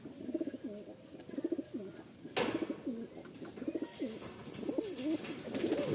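Pigeons kept for sale coo repeatedly in soft, rolling phrases close by, with a brief sharp noise partway through.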